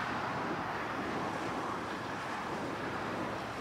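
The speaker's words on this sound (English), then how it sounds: "Wind's right into my face, so a nice southeast wind." Southeast wind buffeting the microphone during a Texas storm chase near a tornado-warned supercell, a continuous broad rumbling roar that stays steady throughout, with no voices.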